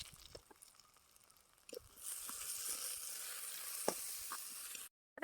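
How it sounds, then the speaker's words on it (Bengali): Lentils frying in a pan with turmeric, salt and green chilies, a soft sizzle that swells into a steady, fuller hiss partway through, with occasional small clicks and stirring taps, then a brief cut to silence near the end. "এবার আমরা দিয়ে দিলাম ডাউল এবার ডাউল দেওয়া শেষ এবারে ডাউলটাকে সুন্দর করে কষিয়ে নিতেছি"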